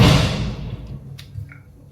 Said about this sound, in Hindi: देखो जोर से दरवाजे की आवाज आई होगी आपको।